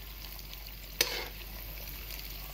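Leftover ghee residue from milk cream is reheated in a pan, giving a faint steady sizzle with a single sharp clink near the start, close and without talking.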